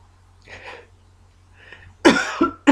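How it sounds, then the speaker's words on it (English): A couple of soft breathy sounds, then two sharp, harsh coughs close to the microphone in quick succession. "I had this cough."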